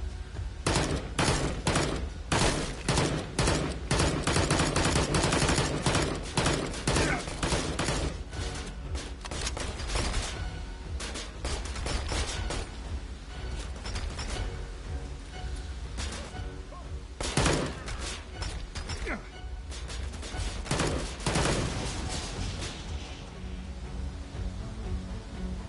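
Enemy gunfire sounds in the PSVR game Immortal Legacy: The Jade Cipher, with dense, rapid bursts of shots cracking in quick succession almost continuously, loud and close, and scattered heavier thuds mixed in.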